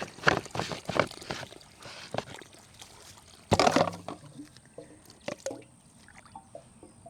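Water runs and splashes through a drain on a blueberry farm, with irregular gurgling bursts and one louder surge midway, fairly close and otherwise calm.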